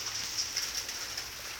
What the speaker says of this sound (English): It's wet. It is rainy.